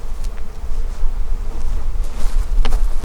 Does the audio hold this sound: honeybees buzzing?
yes